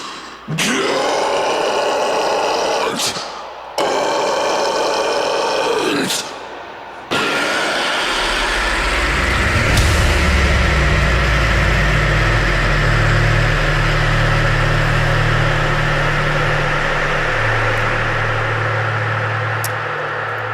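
A blackened deathcore song crashes into a heavy breakdown: loud, dense distorted guitars and pounding drums, with choppy stop-start hits and brief gaps early on, then a sustained low-end chug carrying through to the end.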